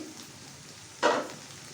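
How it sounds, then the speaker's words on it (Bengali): Okra masala (bhindi) fries uncovered in a pan with a quiet steady sizzle, broken by one short, louder scrape of stirring partway through. "এখন ঢাকনা ছাড়াই আমি এভাবে আর 2 মিনিট এভাবে ফ্রাই করে নেব"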